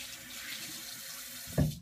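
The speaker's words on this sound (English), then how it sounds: "I just take a little bit of water and I dampen it" Tap water running into a sink to dampen a makeup sponge, a soft steady rush, faint and close, ending with a brief louder splash.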